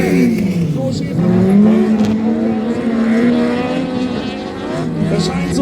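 Autocross buggies race on a dirt track as one slides sideways and takes the outside line, engines roaring and revving steadily close by, with a commentator talking continuously over the noise.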